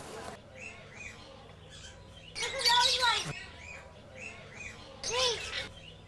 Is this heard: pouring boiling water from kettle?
no